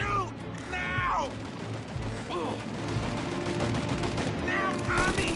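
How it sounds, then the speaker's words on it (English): Gunfire from a shootout in the video game Mafia Definitive Edition, with dense rattling bursts running throughout under a busy mix of shouting voices and game sound. "Shoot out your gun when there's a break in the fire!"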